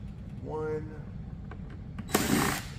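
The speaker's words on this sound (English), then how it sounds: "So let's take these last two screws out." A power drill backs screws out of a ceiling cassette air conditioner panel, with a short whirring burst near the end, preceded by a brief rising tone and quiet handling noise.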